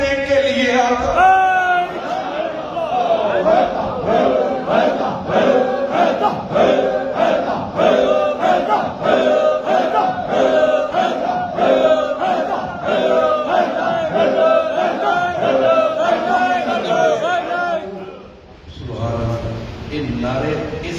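At an annual urs gathering, a large crowd chants religious slogans in loud rhythmic unison, with repeated call-and-response surges that carry on steadily before easing near the end.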